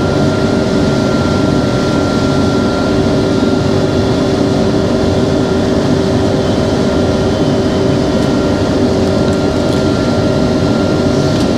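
A 2025 New Holland CR 10.90 combine harvester with a 13.70 m MacDon header working a field gives a loud, steady engine drone with a constant mechanical hum and no breaks, and no voices.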